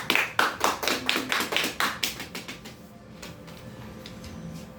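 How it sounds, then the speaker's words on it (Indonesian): Classroom clapping as pupils applaud a classmate called up to present, a quick burst of sharp, fairly close claps for about three seconds that then trails off into quiet room tone. "Kita beri tepuk tangan untuk Jenny."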